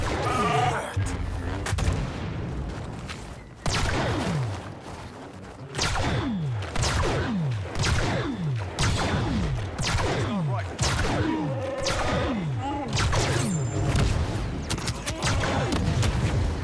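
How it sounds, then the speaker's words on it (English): Laser blaster fire in a Star Wars Battlefront match: rapid repeated shots with sweeping pitch-drop zaps, coming in dense volleys near and loud across the whole stretch, with a voice speaking briefly over the shooting. "They are all literally shooting at me."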